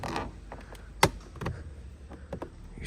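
Plastic trim panel clips on a BMW F10 door pop loose one at a time with a sharp crack and a few smaller creaks and snaps, close up in a quiet garage-like space.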